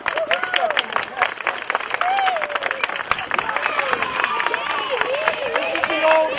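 Crowd applause for a school class at a community event, dense clapping mixed with cheering and background chatter, with voices heard through it.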